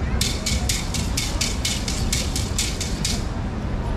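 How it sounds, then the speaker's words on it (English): A pu'ili, a split bamboo hula implement, struck in a quick steady rhythm. About a dozen bright, dry clacks sound close and alone over faint background noise. "Now our second hula implement is made of split bamboo."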